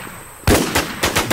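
Rapid gunfire in the zombie shooter game WarZombie during a PvP match: after a quiet moment, several loud, sharp shots burst out in quick succession, close and punchy, with no talking.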